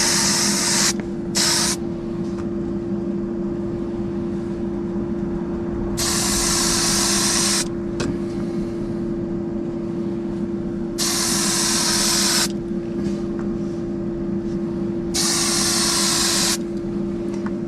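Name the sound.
spraying clear coat on a slot car body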